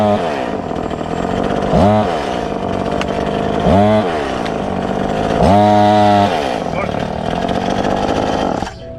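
Chainsaw cutting wood, the loud engine repeatedly revving up and bogging down in three surging bursts as it bites into the log, close by and droning steadily between cuts.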